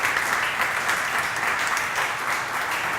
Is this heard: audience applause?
yes